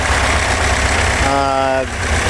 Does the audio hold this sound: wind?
no